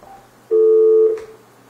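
During a live call-in radio show, a single telephone keypad tone sounds for about half a second, clear and loud against a quiet line, then fades.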